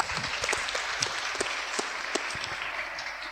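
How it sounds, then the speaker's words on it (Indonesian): Audience at an Indonesian religious study gathering claps steadily for a few seconds, a fairly even patter of many hands heard from a moderate distance with no talk over it. "tepuk tangan untuk kita semua"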